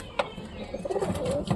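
A pigeon sitting on its eggs coos close by in a few soft, low throaty rolls, with a brief rustle or flap near the start.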